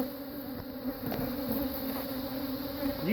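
Honeybees swarm and buzz steadily around an opened hive during spring hive splits, a continuous droning hum close by with a few louder passes as bees fly near.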